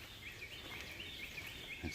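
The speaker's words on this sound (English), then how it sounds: "you can hear the birds chirping" Faint, repeated high chirps from small birds scattered through the woods, soft and distant over a quiet background hiss.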